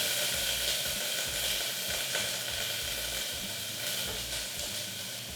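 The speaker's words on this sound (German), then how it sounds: "Frühlingszwiebeln in das Öl." Spring onions sizzling in about a tablespoon of olive oil over fairly high heat, a steady bright hiss running throughout without talk.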